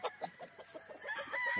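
A chicken on a farm in Balungao, Pangasinan, gives a quick series of soft clucks, followed by a louder strained call at the end, heard close and alone.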